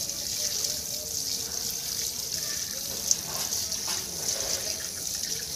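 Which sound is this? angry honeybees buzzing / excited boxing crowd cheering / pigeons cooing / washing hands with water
washing hands with water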